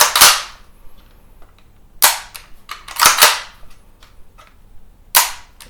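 A WE Apache MP5A3 gas blowback airsoft rifle fires several loud, sharp single shots at uneven intervals, each a crisp crack with a brief mechanical clack, close up with quiet gaps between.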